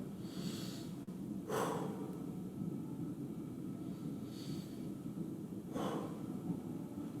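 Two slow, deep breaths come during a standing leg stretch, each a soft airy exhale several seconds apart. They sit close and quiet over a low background hum.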